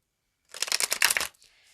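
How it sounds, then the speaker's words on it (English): Tarot cards are shuffled in the hands for a pick-a-card reading, one quick close riffle of papery flicks lasting under a second, then quiet. "One more little shuffle here. One more shuffle."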